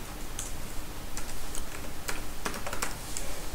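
Fast typing on a computer keyboard while writing Laravel PHP code, close crisp key clicks in irregular runs and short bursts, with no voices.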